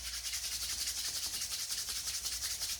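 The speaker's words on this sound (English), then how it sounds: "taking your hands and rubbing them together" Two hands rub briskly together, making a continuous soft, rhythmic friction swish, close and quiet with no talking.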